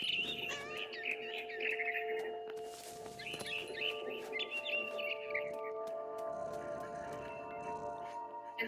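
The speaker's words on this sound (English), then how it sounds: "Then I heard chirping outside my window." Barn swallow chirping in the game What Remains of Edith Finch, a run of bright, busy tweets and calls across the whole stretch over a low steady background, moderately loud and fairly close.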